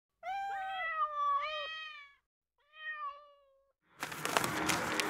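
Several high, clear kitten meows, two long ones then a shorter one, followed by a burst of noisy rustling.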